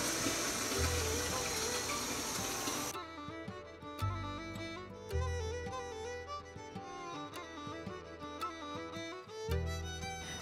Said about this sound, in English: Getting the water going and getting it hot.